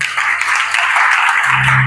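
Church congregation clapping and cheering during a French-language service, a dense close burst of applause filling the room, with a low voice rising near the end.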